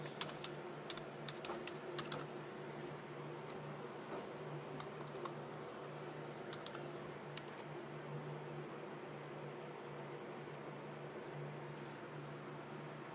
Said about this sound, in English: we go up here and we type in titles of nobility